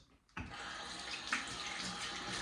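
A tap is opened and water gushes steadily into a sink, starting abruptly after a short quiet moment and continuing as a full, even rush close by.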